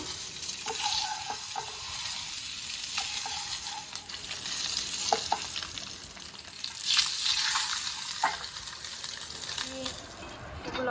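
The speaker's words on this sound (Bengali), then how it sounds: "ডিমটা একটু হলুদ দিয়ে ভেজে নেব দিচ্ছি তেলের ভিতরে ডিমগুলো" Eggs with turmeric frying in hot oil, a steady close sizzle with occasional sharp pops and stirring sounds running throughout, while a voice speaks faintly at moments.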